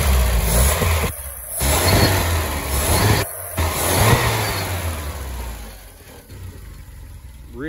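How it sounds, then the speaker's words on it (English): Close, loud running engine of a 1972 Triumph Spitfire, revved up and let back down several times in surging waves before easing toward a lower idle. "Great running little engine."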